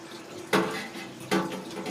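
Tap water running while pots are washed, two strong surges of splashing water over a steady flow, close by, with no talk over it.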